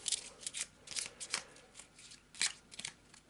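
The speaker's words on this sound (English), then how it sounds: "So we'll put those discards back in and we will shuffle our deck." A deck of playing cards being shuffled for a dungeon-crawl board game, with crisp riffling bursts repeating in an uneven rhythm, close and fairly quiet, with no talking.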